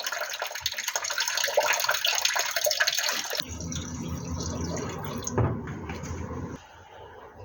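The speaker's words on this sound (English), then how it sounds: "Put some radiator flush in there." Radiator flush is poured into the radiator of a Hillman Super Minx, a steady splashing liquid pour that stops abruptly midway, followed by quieter dripping and trickling.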